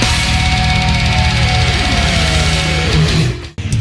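Loud, dense metal recording by a Brazilian band, with sustained distorted guitars and pitch bends over pounding drums, playing continuously before a brief dropout near the end.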